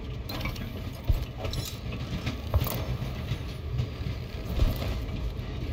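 A train rolls steadily along in the video game Voidtrain, a constant mechanical rumble and clatter with occasional knocks and clunks, moderately loud and without talk.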